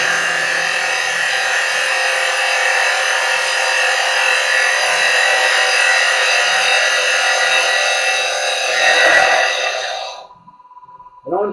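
A carbide chisel cutting wood on a lathe, a steady, loud whirring hum with bright tonal ringing, continuous for about ten seconds before it drops off abruptly, with a brief scrape at the end.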